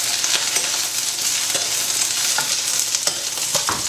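Food fries in a pan while cabbage and chorizo sausage soup is being made, a steady close crackling hiss with scattered sharp pops and a few stirring scrapes, with no talk.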